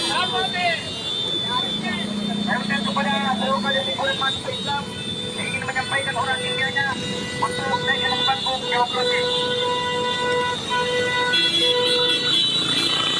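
Car horns honk repeatedly in a long traffic jam as drivers try to push through a student protest blockade on Jalan Urip Sumoharjo in Makassar, the toots layered over steady engine rumble and street noise, with a voice talking over it.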